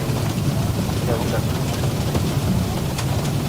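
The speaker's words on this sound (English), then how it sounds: "I really just want to test the rain effect." Steady rain drumming on an airliner in the X-Plane 12 flight simulator during a flight from Mombasa to Nairobi, a dense, even wash of hiss with low rumble underneath, continuous and fairly loud.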